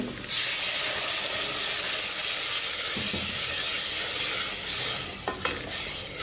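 A loud, steady sizzle of ground tomato and chili paste frying in a hot pan, with a little stirring and scraping near the end, no voices.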